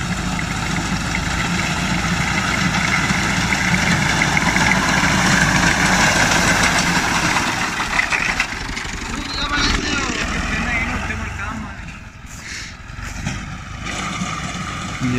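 A Ghazi tractor engine idles with threshing machinery on a farm, a steady close rumble that fades somewhat toward the end, while someone talks over it.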